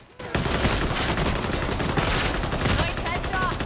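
Loud, continuous gunfire from Warhammer 40,000: Darktide, a dense stream of rapid shots that begins abruptly after a brief quiet moment and carries on without a break.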